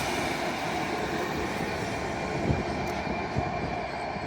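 A train pulls out of York station on the East Coast Main Line, heading for Oxwell Mains, with a steady loud rumble of wheels and engine plus faint clicks of rail joints.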